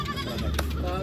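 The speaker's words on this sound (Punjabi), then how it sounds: "ਬੱਕਰੀਆਂ ਬੱਕਰੀਆਂ ਆ" Goats bleat at a crowded livestock market, one close wavering bleat sustained across the second over a low murmur of crowd noise.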